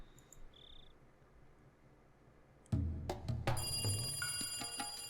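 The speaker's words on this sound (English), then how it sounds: "Oh no, it's the phone." A telephone in the Higurashi video game starts ringing abruptly after a quiet stretch with faint chirps, its bright electronic ring continuing loud and steady to the end.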